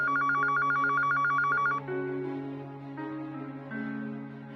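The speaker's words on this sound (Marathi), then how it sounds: "हा फोन उचल." A telephone rings with a repeating electronic ringtone, loud and close, alone with no one talking, before the melody fades into softer tones.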